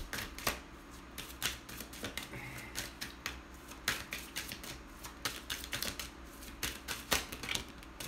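Tarot cards from a Rider-Waite deck shuffle close by in quick, irregular snapping bursts, a rapid riffling patter with short pauses between runs.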